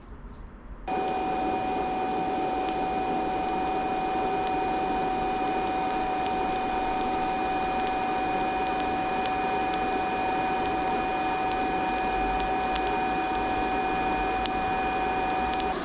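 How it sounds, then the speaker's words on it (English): A welder runs a bead with a gas lens setup, starting abruptly after a quiet moment and then holding a steady, loud buzzing hiss with a constant tone until the end. "So with this setup dialed in, we're gonna run another weld."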